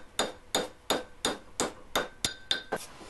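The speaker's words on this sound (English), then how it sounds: "bash it through the dowel plate" A wooden dowel is hammered through a steel dowel plate to round it, eight sharp, evenly spaced blows ringing out close and loud in a steady rhythm.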